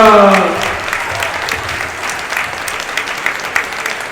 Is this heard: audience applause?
yes